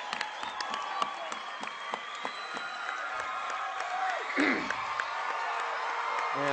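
A basketball crowd at a district final game roars with cheering, clapping and whoops, scattered sharp claps and squeaks over a steady murmur, with a whistle-like sweep midway.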